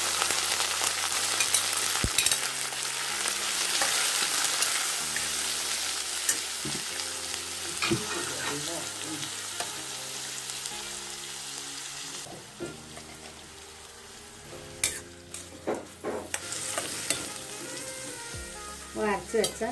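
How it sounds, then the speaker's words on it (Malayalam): Spices tempering in hot oil for an anchovy curry, a loud continuous sizzle and crackle close by, with occasional stirring clinks and scrapes and bursts of spattering. "വറവിടുകയാണ്, ആദ്യം തന്നെ വറവിടുകയാണ്"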